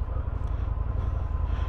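An Indian FTR 1200 motorcycle pulls away with a deep, throbbing engine rumble, close and moderately loud, its low exhaust pulses running steadily for the whole moment.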